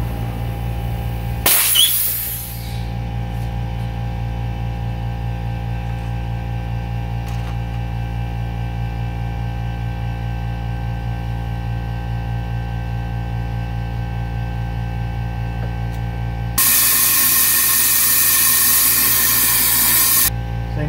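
Compressed air hisses steadily from an unsecured hose during an engine cylinder leak-down test done without a gauge, with a brief burst near the start and a louder hiss at the end, over a constant low hum.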